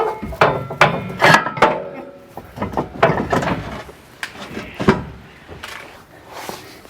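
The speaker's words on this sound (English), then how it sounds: "So I'm slipping in all my carriage bolts here." Carriage bolts are slipped into a trailer hitch frame bracket with a series of sharp metallic clinks and knocks in an irregular rhythm, close by, with no talking.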